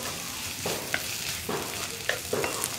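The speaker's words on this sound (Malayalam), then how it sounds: "മഞ്ഞൾപ്പൊടി ചേർത്തിട്ട് നന്നായിട്ടൊന്ന് ഇളക്കി മിക്സ് ചെയ്യാം" Turmeric powder is stirred into chana korma in a frying pan: a soft continuous sizzle runs under four or five distinct scraping strokes of a spoon, close and fairly clear.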